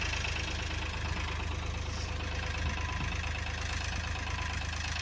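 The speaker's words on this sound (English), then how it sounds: "I'm not sure if you can hear me over the tractor." A tractor engine idles steadily nearby in muddy farmland, a constant low rumbling throb with no pauses.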